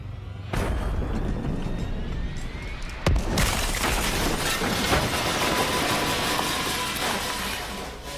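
Explosions in the Call of Duty Black Ops video game hit as two sharp blasts, each followed by a dense, sustained rumble of battle noise.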